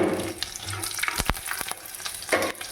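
Peanuts, curry leaves, coriander and chillies spluttering in hot oil for puliyogare, a close sizzling crackle with sharp pops scattered through it and no voices.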